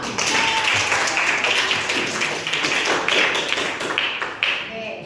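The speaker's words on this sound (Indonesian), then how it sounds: "Tepuk tangan dulu kita semua." Group clapping in a school classroom with the principal present, a fairly loud, close burst of hands with some voices mixed in.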